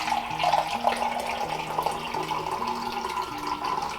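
Filtered water pours and trickles steadily at close range, fairly quiet, with soft musical tones playing underneath.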